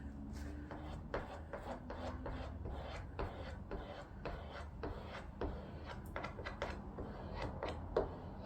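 A brush dabs epoxy resin onto glass cloth in a quiet series of soft, irregular taps and rubs, close up and faint, with no talking.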